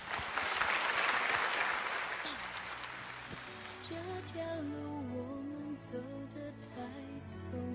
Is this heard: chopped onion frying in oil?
no